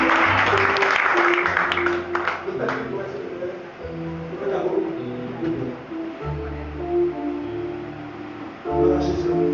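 Church congregation clapping for Jesus during a service, a dense wash of applause that swells at the start and again near the end, mixed with music and voices throughout.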